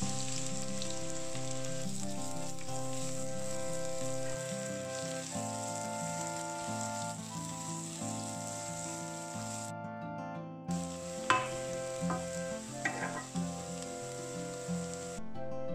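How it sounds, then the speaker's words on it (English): Sliced onions sautéing in a pan for a Kerala-style egg curry, a steady soft sizzle under continuous background music, with a few brief stirring knocks toward the end. "add the sliced onions and sauté it for around 3 to 4 minutes."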